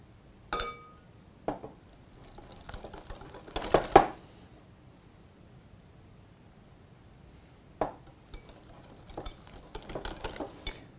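Occasional clinks of a utensil against a bowl while a mayonnaise base of sweet paprika, saffron and turmeric is mixed, heard as faint, sparse taps separated by quiet gaps, with a busier cluster near the end.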